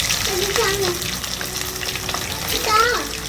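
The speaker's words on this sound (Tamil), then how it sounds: "நம்ம இப்போ சிக்கன் ஃப்ரை ஆகிட்டு இருக்கு" Chicken 65 pieces fry in hot oil for a spicy, crispy dish, giving a steady close sizzle with a few brief scrapes and faint background sounds, no talk over it.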